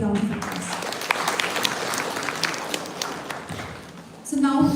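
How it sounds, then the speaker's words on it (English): An audience at an AI summit breaks into sustained applause, many hands clapping steadily before fading as a voice begins speaking at the end. "please give a big round of applause"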